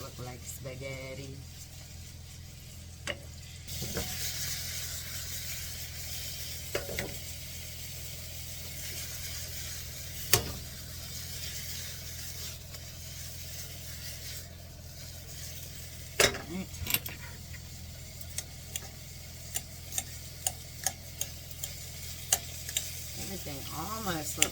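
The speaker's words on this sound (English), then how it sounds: "now I am going to add the spaghetti squash to this. Break it up a little bit in the pan, make it look like spaghetti." Spaghetti squash sizzles steadily in a hot pan while it is stirred and broken up, with occasional sharp clinks of a utensil against the pan, close and continuous.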